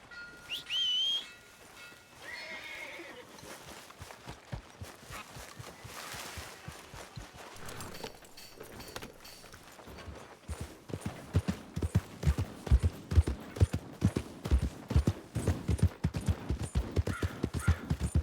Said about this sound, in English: My horse! Am I glad to see you?